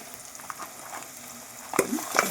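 Cleaned crabs cooking in masala in a pan, a low frying sizzle with a couple of stirring scrapes and clatters toward the end, close and fairly quiet.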